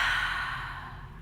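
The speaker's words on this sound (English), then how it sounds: "Through the mouth, exhale." A single slow exhale through the mouth during a yoga breathing exercise, a soft close breathy whoosh that gradually fades over about a second.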